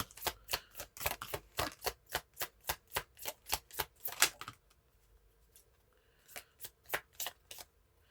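Rapid rhythmic riffling of a tarot deck being shuffled, a run of crisp flutters, a brief pause, then several more quick bursts, close and clear.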